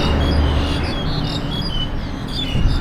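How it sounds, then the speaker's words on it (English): Birds chirping in trees along a hot Bangkok street, a steady chorus of small tweets over a dense wash of city noise, close and fairly loud, with no talk. "You can hear all the birds chirping,"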